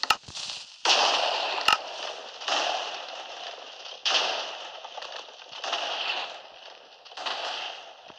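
TNT launcher built with redstone in Minecraft fires repeatedly, a series of sharp bursts and explosive whooshes at regular intervals, each fading into a hiss, fairly loud and without talk.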